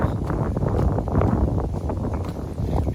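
Strong wind buffeting the microphone in a constant, loud low roar with gusty swells throughout.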